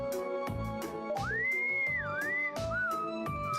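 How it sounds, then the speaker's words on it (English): A character in the video game Trails of Cold Steel whistles an innocent, wavering tune that rises and dips clearly above a rhythmic, beat-driven backing track. "That innocent whistling isn't fooling anyone."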